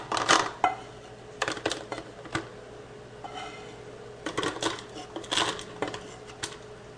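A spoon clinks and scrapes against reheatable plastic Ziploc bowls as food is portioned into six of them, giving a nearby series of irregular knocks and taps with short pauses between them.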